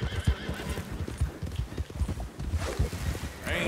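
A black horse in Red Dead Redemption 2 clops along with a quick, uneven run of hoofbeats, close and loud, with a whinny near the end and a voice briefly under it.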